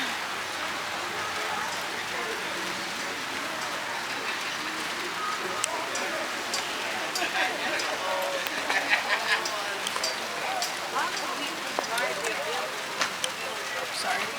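Steady rain patters down at an outdoor car show outside a pizza place, a dense continuous hiss of drops hitting surfaces throughout, with people chatting nearby.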